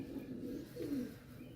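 Ferozpuri pigeons coo in soft, throaty, rolling phrases, two low warbling calls close by with no voices.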